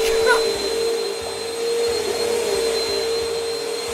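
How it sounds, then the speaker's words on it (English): A vacuum cleaner drones steadily and fairly loudly throughout, with a constant motor whine and an even airflow roar. "Mom, could you vacuum later?"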